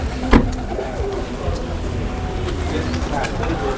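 Pigeons coo softly near a spring, low repeated calls under a continuous background murmur, with a sharp knock near the start.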